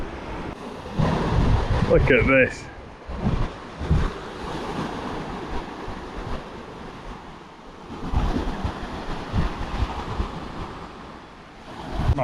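Surf rolls onto a coarse-sand beach on the Japanese coast, a steady broadband wash with wind buffeting the microphone, swelling in waves; a person speaks briefly near the start.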